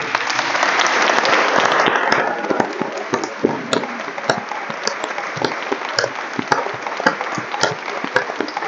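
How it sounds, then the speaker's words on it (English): Audience applause after a talk on science and religion between Christianity and Islam, a full burst of clapping that thins into scattered, sharper individual claps over several seconds. "Can we offer a round of applause?"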